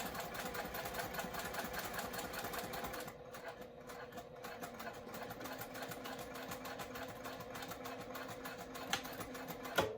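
A sewing machine hums and stitches steadily at close range, with a brief change of pace for a back stitch midway before the steady run resumes, ending in a couple of small clicks.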